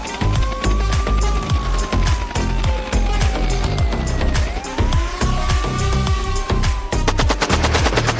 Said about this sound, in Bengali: সে একটা একে নিয়ে তাদের গাড়ির উপরে হামলা করা শুরু করলো।